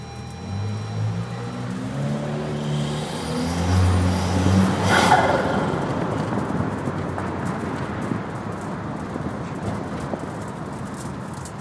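A Lexus NX200t engine revs up and drops back, rising harmonic whine with turbo whoosh and intake noise, swelling mid-clip then settling into steady rumble.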